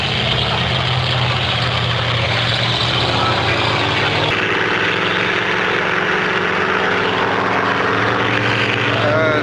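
400-horsepower racing boats roar past together at a memorial boat race in Shelburne, a loud, steady engine drone holding throughout with a shift partway through, under faint crowd noise.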